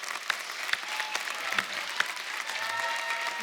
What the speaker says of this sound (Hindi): आप सबकी जोरदार तालियों के बीच में स्वागत करना चाहूंगा